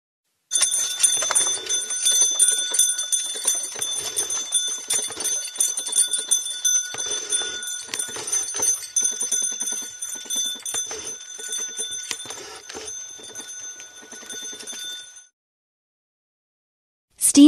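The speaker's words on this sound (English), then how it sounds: "Sleigh." Sleigh bells from a vehicle in the old version of the game Landscape jingle steadily and brightly for about fifteen seconds, close and loud, then stop abruptly.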